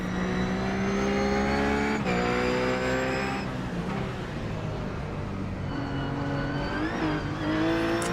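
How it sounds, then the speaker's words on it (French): A Porsche GT3 Cup race car heard from onboard on a circuit, its engine droning loud and steady, pitching up through the gears with shift breaks and a brief dip while braking, and no talk. "on monte à bord de la voiture de Samuel."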